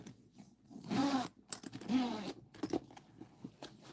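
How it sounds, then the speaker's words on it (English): A double zipper on a soft, comfy bag being pulled open, a few short rasping zip strokes with small clinks in between, close and moderately loud with no talk. "So it's a double zipper."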